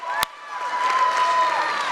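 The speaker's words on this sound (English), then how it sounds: "Give yourselves a round of applause." Audience at a Purim spiel claps and cheers, a sharp knock at the start, then a swelling wash of applause and shouting that holds to the end.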